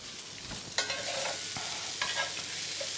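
Lardons going back into a hot pan with roasted Brussels sprouts, giving a steady sizzle broken by a few louder stirring scrapes and clatters, close and alone without voices.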